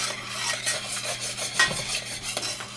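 Boiling fudge is stirred in a pot with the spoon scraping the sides, making a close, continuous rubbing and scraping with a low bubbling underneath and no talk.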